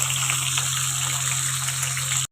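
Cold-pressed kachchi ghani mustard oil pours in a brief, steady, close gush with a low hum beneath, then stops abruptly.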